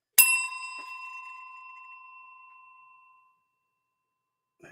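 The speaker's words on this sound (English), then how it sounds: "There's the bell of shame." A single bell is struck once in a studio during a live stream, ringing out with a bright, clear tone that slowly fades over about three seconds, followed by silence and a brief sound at the very end.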